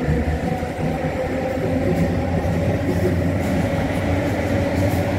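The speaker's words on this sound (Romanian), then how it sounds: "priviți cât de lung este trenul acesta" A Marmaray commuter train runs through Istanbul, giving a steady, loud rail rumble and rolling clatter that holds evenly throughout, with no voices.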